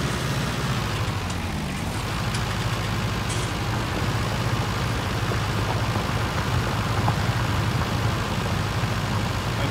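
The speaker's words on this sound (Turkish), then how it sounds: "Makine boğuldu biraz." A Massey Ferguson 277 tractor's heavy diesel engine bogging down while ploughing a field, a steady low rumble and rough, strained tone, running continuously without pause.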